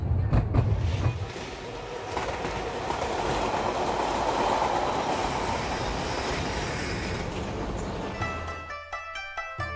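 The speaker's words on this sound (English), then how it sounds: "This is a very special train." A train runs on rails with a loud, continuous rumbling roar and faint rhythmic clatter of wheels, steady for most of the stretch before easing near the end, no voices.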